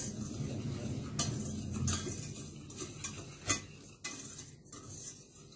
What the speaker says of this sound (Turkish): Bunları şöyle bir karıştıracağım önden.